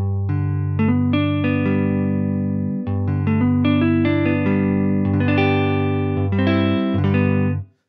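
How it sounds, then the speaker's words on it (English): A blues guitar run through a simulated Tweedman tube amp plays a continuous line of bass notes and chords, slightly distorted and steady, with no voices. "Tweedman is a tube amp, and it's going to give you some distortion when you hit it hard."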